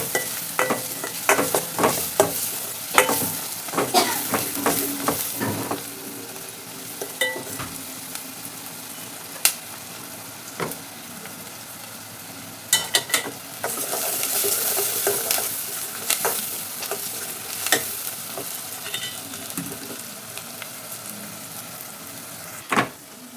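Sliced onion fries with half a spoon of turmeric in a pan, a continuous sizzle broken by frequent sharp scrapes and clinks of stirring, close and clear with no talking.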